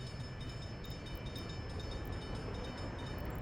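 In the management game Workers & Resources, a moving train gives a constant, even rumbling wash with light metallic ticks on top, sustained for a few seconds with no voices over it.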